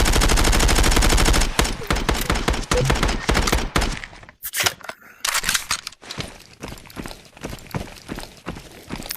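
Rapid bursts of gunfire from a VR shooter game, starting with a sustained loud automatic burst, then scattered nearer and farther shots, clatter and movement noises trailing off.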